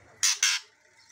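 Oriental magpie-robin (murai batu) giving two quick harsh chirps in a row, fairly loud and close, followed by quiet.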